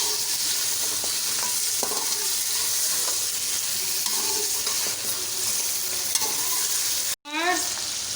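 Mutton for Shinwari karahi fries in a pan while being stirred, a constant close sizzle with scraping and clinking strokes of the spoon, briefly cutting out near the end before resuming.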